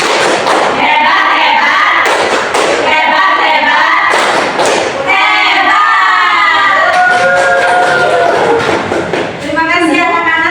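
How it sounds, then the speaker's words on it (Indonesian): A classroom of children performs a rhythmic clapping chant, with sharp unison claps and thumps punctuating loud group shouting and a teacher's voice leading the call-and-response. "Kita tepuk hebat dulu ya"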